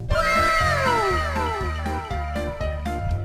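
A pet cat gives a few drawn-out, falling meows in quick succession over a rhythmic musical backing.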